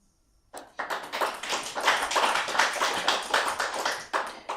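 An audience at a book launch poetry reading breaks into clapping after near silence, a quick swell of many hands that holds steady and then tapers slightly.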